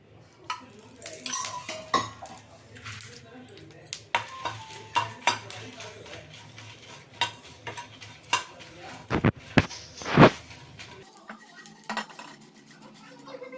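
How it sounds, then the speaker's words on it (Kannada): Byadgi chillies roast in a little oil in a pan, with a soft sizzle under repeated scraping and stirring and sharp clinks of a metal spoon against the pan. Quiet talk comes through faintly. "ಸ್ವಲ್ಪ ಎಣ್ಣೆ ಹಾಕ್ಕೊಳ್ತೀನಿ ಬ್ಯಾಡಿಗೆ ಮೆಣಸಿನ್ಕಾಯಿ ಹುರ್ಕೊಳ್ಳೋದಕ್ಕೆ"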